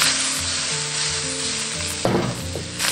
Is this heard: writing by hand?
no